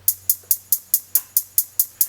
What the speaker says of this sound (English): kept it on an 1/8, and recorded my hi-hats like this